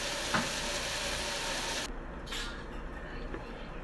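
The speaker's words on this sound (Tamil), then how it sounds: "இப்போ மூடியை போட்டு மூடி வச்சுருவோம் கத்திரிக்காய் நம்மளுக்கு வதங்கட்டும்" Brinjal (eggplant) fries in a pan with a steady, soft, broad sizzle. Partway through, a lid clatters on and the hiss drops to a quieter, muffled simmer, with no speech.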